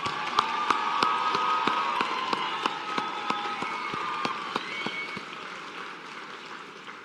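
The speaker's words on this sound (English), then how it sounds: "let's give them all one more round of applause for this whole group here." Sustained applause fills a hall as an audience gives a group of students at a nursing school white coat ceremony another round, many hands clapping together at an even level before easing slightly.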